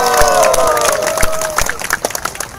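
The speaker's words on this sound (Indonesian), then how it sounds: "Tepuk tangan untuk Anda semua." In an outdoor courtyard at an office building, a religious gathering's crowd cheers and claps, with loud overlapping shouts and whistles at first and irregular clapping continuing as the cheering fades.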